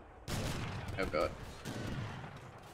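Cannon and gunfire in Age of Empires III: Definitive Edition during a 2v2 treaty match, with a sudden loud volley breaking out and rumbling on. Short game tones and a voice ride over it.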